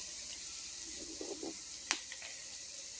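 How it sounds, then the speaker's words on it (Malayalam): Onion and curry leaves sizzle steadily in a hot pan, a continuous close frying hiss with a few soft stirring scrapes and one sharp clink partway through, no voices. "ഞാൻ സവാള ഒന്ന് സവാള വേപ്പലയും കൂടെ ഒന്ന് മൂപ്പിച്ചിട്ട് അതിലോട്ട് കുരുമുളക് പൊടിയാണ് ഇടുന്നത്"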